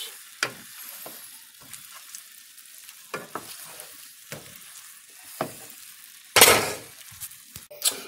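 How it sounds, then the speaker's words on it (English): Gnocchi and mushrooms stirred into a sauce in a hot pan, with a soft steady sizzle broken by a series of sharp utensil scrapes and clinks and one louder burst of stirring near the end. "And now we're going to add it to the mushrooms. Stir them all into the sauce."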